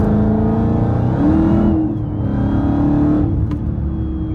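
A Dodge Charger Widebody Hellcat with a 717 hp engine pulls from inside the car, a loud sustained drone with rising and falling revs as it accelerates, heard alone and close.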